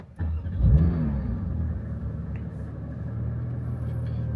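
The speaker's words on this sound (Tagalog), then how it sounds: "Ignition. And then starter." A Porsche 992 GT3 RS engine fires up on the starter, and its revs sweep up sharply in a brief vroom. It then settles into a steady, loud, rumbling idle nearby.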